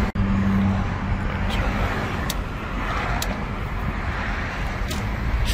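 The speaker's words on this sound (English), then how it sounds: "Traffic's bad." Road traffic heard from inside a moving 2017 Ford Focus with a dual-clutch gearbox: a steady broadband rumble and tyre roar, with brief faint clicks and a short voice at the start.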